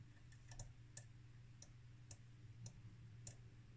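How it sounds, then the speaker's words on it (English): A button on a 1976 MI950 Josti Electronic DIY Nixie clock kit is pressed repeatedly. About seven small, faint, sharp clicks fall at uneven intervals over a quiet low hum, with no talking. "I don't know if you can hear the click, but every time I push the button, I get a new random"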